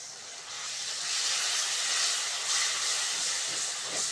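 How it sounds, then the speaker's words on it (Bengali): Spice paste of chili powder and a little sugar fries in a pan with a splash of water for a Bengali bottle gourd leaf dish, giving a steady, moderately loud hiss and sizzle throughout with no talking. "মশলাটা ভালো করে কষে নেব।"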